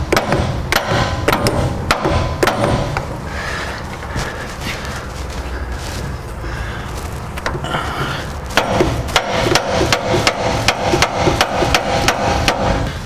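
Metal-on-metal hammering as a track bar bushing is driven into place, a rapid series of loud, sharp close strikes in bursts with a brief quieter pause partway through.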